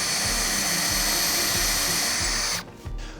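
A power drill bores a hole while a paracord bracelet jig is built. Its motor whines steadily and loudly, with a rhythmic pulsing, for about two and a half seconds, then cuts off and winds down.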